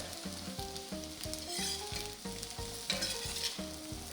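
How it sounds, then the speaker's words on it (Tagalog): Fried tofu sautéed briefly in a pan: a steady, close sizzle with rhythmic scraping and tossing strokes about twice a second, under a faint tonal hum in the background, with no one talking. "Pagkalagay ng tokwa, ginigisa ko lang yan ng 30 seconds."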